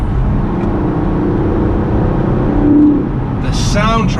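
Sports car engine pulling on a country road, a steady close drone with a short rising rev near the end, under someone talking.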